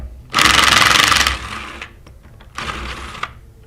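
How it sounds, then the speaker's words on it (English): A 3/8-inch drive impact gun rattles in two loud, close bursts while removing the discharge manifold bolts on a 1½-inch clamped metal Versamatic air-operated pump, with a quieter pause of handling noise between them. "Today we're going to use a 3/8 drive impact gun for ease of assembly and disassembly"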